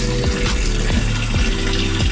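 Strong steady stream of filtered water pouring back out of a betta fish tank filter after its valve is turned open, a continuous close splashing rush with occasional low thumps, no talking.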